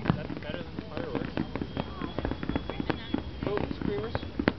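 Screamer fireworks go off at a Canada Day display in Saskatoon, a dense run of sharp crackling pops and whistling streaks at close range, with people talking excitedly over the bursts.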